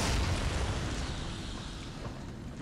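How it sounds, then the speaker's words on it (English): A booming explosion in the video game Darksiders, a loud broadband blast that rumbles from the start and slowly fades out over a couple of seconds. "Explosions."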